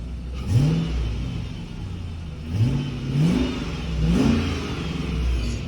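A Chrysler 300 with a 5.7-litre Hemi V8 revs in repeated blips, three or four rising pulls over a steady idle, close and fairly loud with no talk.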